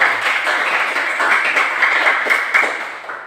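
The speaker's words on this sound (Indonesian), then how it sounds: "Bagus sekali, tepuk tangan untuk Valdo" A classroom of children applauds a student named Valdo with dense, continuous clapping that stays fairly loud throughout and tapers off at the end.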